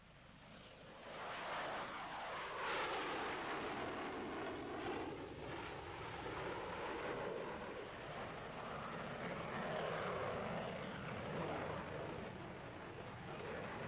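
MiG-29 jet aircraft in flight, a loud sustained engine roar that swells and shifts in pitch as it passes, filling the whole stretch with a broad rushing drone.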